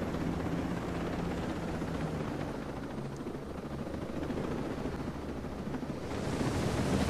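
Continuous low thudding rotor drone of a helicopter in Ghost Recon: Breakpoint, with wind-like rushing, steady throughout and swelling slightly louder near the end.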